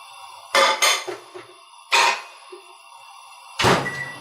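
Three separate clinks and clatters of a bowl being set on top of another bowl while popcorn is prepared for the microwave, each a sharp ceramic knock with a brief rattle, heard close and alone.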